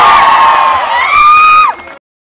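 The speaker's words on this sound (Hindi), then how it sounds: "जोरदार तालियों से" Crowd at a political rally in Solapur cheers and whoops loudly, voices rising together in a sustained roar that cuts off abruptly, followed by near silence.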